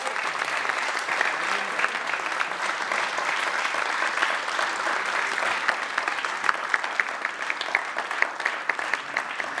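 A concert audience at a youth music award ceremony applauds steadily as young finalists leave the stage. The dense, even clapping fills the room and holds for the whole stretch.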